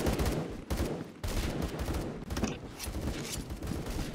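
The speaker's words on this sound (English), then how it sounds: "I'm getting shot at, but I don't know where." Loud, dense gunfire from a Roblox shooting game keeps up rapid automatic bursts almost without a break, with a few short pauses, and no talking is audible.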